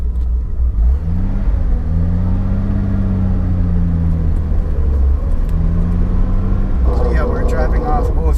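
A Datsun 280ZX pulls away in first gear, its engine rumbling loudly and close while a rising and falling transmission whine sings over it. A brief higher clatter follows near the end.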